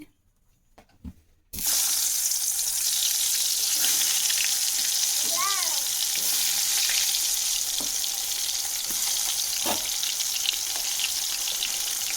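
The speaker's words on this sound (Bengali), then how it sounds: "কড়াতে তেল দিয়ে দিচ্ছি" After a brief quiet moment, eggplant coated in turmeric and salt hits hot oil in a kadai. A loud, continuous close-up sizzle follows, with faint occasional clinks.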